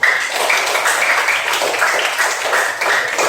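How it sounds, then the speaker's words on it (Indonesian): A classroom of students claps for a classmate during a mathematics lesson, a dense, even patter of many hands carrying on steadily for about three seconds. "tepuk tangan buat Jasrin"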